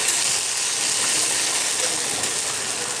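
Ginger-garlic paste and onions fry hard in a pan for a goat intestine roast, giving a loud, steady, unbroken hiss with no talking.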